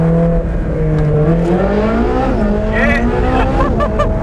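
A 600 hp Ferrari 458 Speciale engine climbs toward 5,000 RPM, heard from inside the car as a loud, rising mechanical howl, with a brief spoken word near the start.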